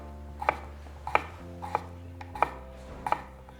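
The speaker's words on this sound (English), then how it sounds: "Cut it in half. And then into small moons." A knife chops small potatoes into half-moon slices on a cutting board, five crisp, evenly spaced cuts ringing out close and clear with no talking.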